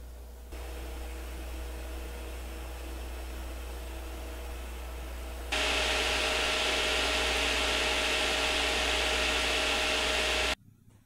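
A Gigabyte GTX 1080 Mini graphics card's fan whirs as a steady hum, then abruptly jumps to a much louder, hissing roar that holds until it cuts off near the end.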